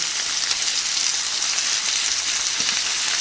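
Duck breasts fry in a griddle pan just after being turned, giving a steady, close hiss and sizzle throughout with a few faint pops and no talking.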